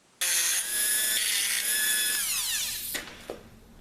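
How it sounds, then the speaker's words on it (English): A Dremel rotary tool fitted with a cutter wheel grinds on a GMC Safari / Chevrolet Astro core support while fitting a speed nut, a loud, steady high-pitched whine that shifts pitch as it bites, then spins down and stops. "After drilling the hole, I worked with the Dremel tool with the cutter wheel."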